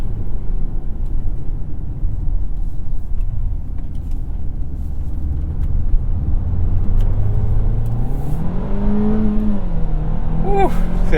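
A Mercedes-Benz GLA 250 with a 2-liter engine accelerating on the road, a loud steady rumble that rises in pitch through the gears toward the end.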